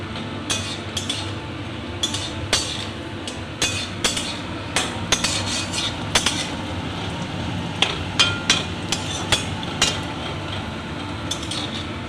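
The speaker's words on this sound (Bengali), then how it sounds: "কড়াইতে সর্ষে তেল দিয়ে দিয়েছি, এবার বড়িটা লাল করে ভেজে নেব" Lentil dumplings (bori) fry in mustard oil in a wok under a low steady sizzle, broken by frequent sharp metallic clinks and taps of a utensil against the pan at an irregular rhythm.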